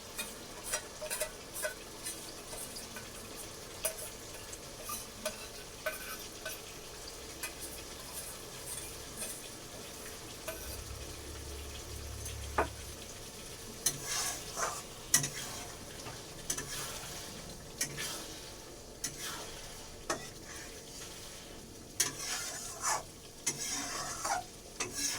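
Onions frying in a pan with ground turmeric, cumin, coriander and black pepper, a low sizzle broken by frequent light ticks and clinks of a spoon stirring, close and quiet, with no talk.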